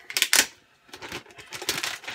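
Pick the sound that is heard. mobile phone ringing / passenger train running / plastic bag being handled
plastic bag being handled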